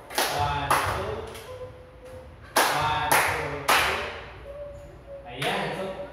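Children at a Sunday school class clap together in several short, sharp bursts spread across the moment, with voices talking in between.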